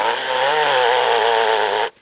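A mini 4-inch electric chainsaw whines at full speed while cutting, a steady buzzing motor drone with a wavering pitch, loud and close, stopping abruptly at the end.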